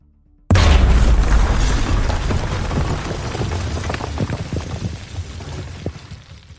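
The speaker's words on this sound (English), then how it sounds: "a loud explosion shook the walls of his sanctuary" A loud explosion sound effect in a crime thriller audio drama, a sudden deep boom out of near silence followed by a long rumbling, crackling tail of falling debris that slowly fades.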